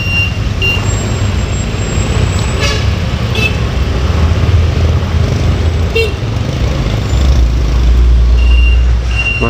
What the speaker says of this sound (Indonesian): Maros macet.